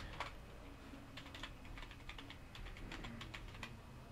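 Soft, quick keystrokes on a computer keyboard as a web URL is typed, scattered clicks in uneven bursts, close but quiet.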